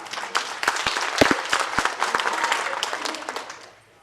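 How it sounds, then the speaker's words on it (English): Applause from an audience at a sales seminar, with individual sharp claps standing out over a steady patter that builds, then tapers off toward the end. "You can give her a round of applause."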